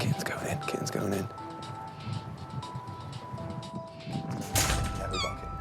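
A kitten mews in short repeated calls during an outdoor rescue of a litter of kittens, heard beneath excited talking and occasional clattering.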